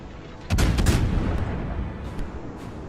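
Heavy naval gun salvo in the World of Warships game during a battle against the cruiser Stalingrad: a sudden loud booming volley of several overlapping blasts, then a rumbling decay under continuous battle noise.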